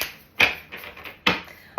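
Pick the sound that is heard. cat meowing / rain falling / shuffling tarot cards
shuffling tarot cards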